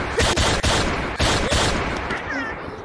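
A player's voice imitates rapid gunfire in Gorilla Tag, a burst of harsh, loud bangs over roughly two seconds that then trail off into noisy background chatter.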